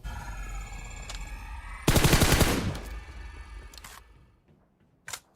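A loud burst of rapid automatic gunfire in PUBG Mobile rattles out, followed by quieter distant shots and one sharp crack near the end.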